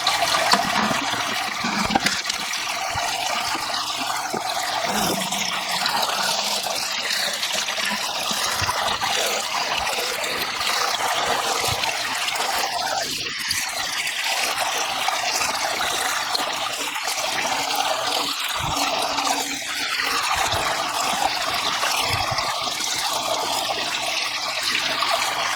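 Water siphoned from a fish tank through a gravel vacuum, a steady close trickling and gurgling rush of liquid that runs continuously without pause.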